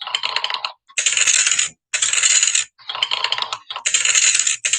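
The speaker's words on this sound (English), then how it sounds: "So you throw more alphabetical dice down." Plastic alphabet dice thrown down and rattling, five rapid clattering bursts separated by brief pauses, close and fairly loud with no voices.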